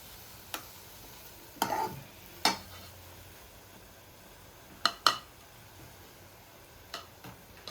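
Moringa leaf spice powder being stir-roasted in a pan: about six faint, brief scrapes and stirring clicks spaced irregularly over a quiet background, with no talking.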